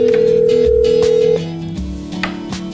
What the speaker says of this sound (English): Press the flash button and dial 104, the extension number, and send.